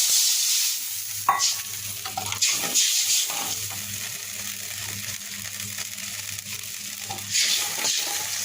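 Spice paste with tomato sauce, already fried down, sizzles steadily in a pan as water goes in, with repeated scraping stir strokes and a brief pour; close, busy and continuous, with no talking.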